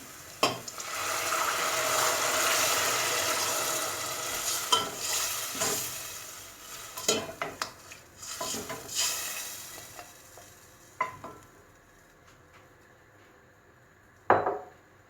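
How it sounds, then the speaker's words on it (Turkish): Onions and tomatoes sizzling in a pan for a Turkish pea and vegetable dish, with a steady frying hiss broken by scraping stirs and clinks of a utensil against the pan, the sizzle fading toward the end. "soğanımız kavrulmuştur şu anda. Domatesimizi ilave edelim."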